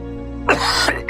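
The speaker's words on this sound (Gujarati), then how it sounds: "વધારે ઉધરસ આવે છે?" A single short cough or throat-clearing from an unwell person at home, close and fairly loud, followed by a brief second burst.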